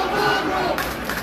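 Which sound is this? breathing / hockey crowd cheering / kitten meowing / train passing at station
hockey crowd cheering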